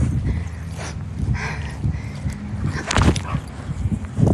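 A dog barks and whimpers in short bursts close by, with footsteps and some background movement during an outdoor encounter.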